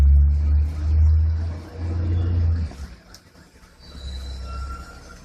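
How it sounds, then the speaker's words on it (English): A garbage truck passes nearby, a heavy low engine rumble that swells and fades in waves before a lighter rumble returns, with a faint high tone toward the end. "And there goes the garbage man,"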